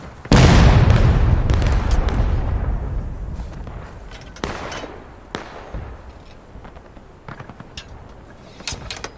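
Musket volley at a Civil War reenactment between the 1st Massachusetts and 1st Texas: one loud, close blast with a long rolling echo, followed by several scattered sharper shots further off.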